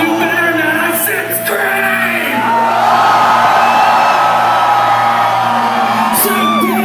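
Loud crowd at a concert in St. Petersburg, Russia, screaming and yelling in a long continuous roar that builds, with scattered whistles and a low stage drone beneath.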